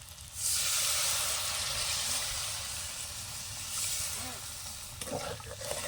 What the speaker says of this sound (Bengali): এবার আমি জলটা দিয়ে দেবো